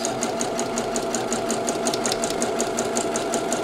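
Close and steady, a sewing machine runs a continuous fast stitch along a cushion seam, its rhythmic needle ticks evenly spaced throughout.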